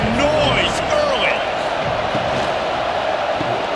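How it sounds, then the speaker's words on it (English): A college football stadium crowd roars early in the season's first game, a loud, dense wall of cheering and whoops that holds steady throughout. "This crowd bringing the energy and noise early."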